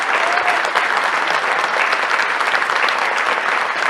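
Loud, dense, sustained applause fills the hall from an audience including electoral magistrates and court ministers at an official ceremony, steady throughout with no speech over it.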